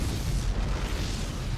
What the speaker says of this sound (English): But this nuke's going to land,